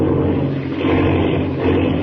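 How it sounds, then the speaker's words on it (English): A radio drama sound effect of an airplane engine as a plane spins out of control gives a steady, loud droning roar that holds throughout with slight swells and no voices. "the plane. Spinning. It's out of control."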